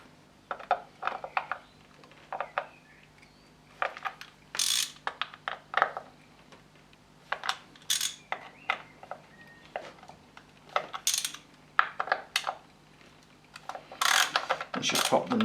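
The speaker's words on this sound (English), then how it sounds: "I just replaced my socket with the torque fastener and put these to take the derby cover off" Ratchet fitted with a T27 Torx bit undoing derby cover screws on a Harley-Davidson Fat Bob, giving repeated short bursts of close, crisp pawl clicking separated by brief pauses.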